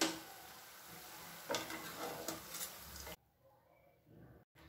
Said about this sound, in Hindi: और इस तरह से इन बॉल्स को भी फ्राई कर लेंगे।